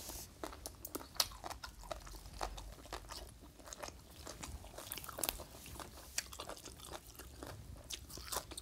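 Crunchy Lao-style papaya salad (som tam) with pickled fish is chewed close up, with steady crisp crunches and bites repeating throughout and no talking.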